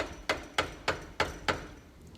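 Hammer tapping a wheel bearing into place on a Land Cruiser 105, five sharp metallic taps at a steady quick rhythm, close and alone.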